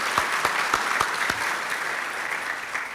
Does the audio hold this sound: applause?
yes